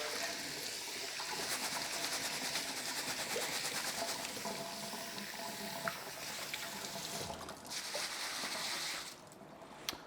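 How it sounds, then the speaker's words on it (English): Cold tap water runs steadily over rice being washed in a bowl or sink for a Malaysian dish, a continuous hissing splash with faint stirring, close and even, dropping away near the end. "I'll wash it 3 times under some cold running water."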